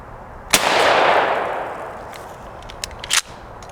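A shotgun fires a turkey load outdoors: a sharp loud blast followed by a long rolling echo, then a couple of fainter clicks and knocks as the gun is handled.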